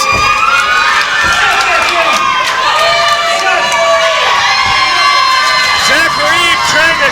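A wrestling crowd at an indoor show cheers and shouts continuously, loud and dense, with whoops and high voices rising above the roar.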